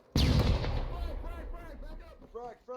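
Frag grenade exploding in the Arma 3 video game, a single loud blast with a long rumbling tail, followed by voices talking over the fading echo.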